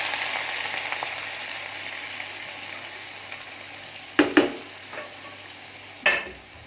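Pethe halwa roasting in a pan with dried fruit, a steady broad sizzle running throughout, broken near the end by a few sharp scrapes and clinks of a spoon stirring against the metal.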